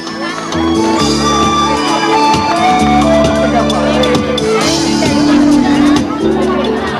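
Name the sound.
crowd applauding and cheering at an award ceremony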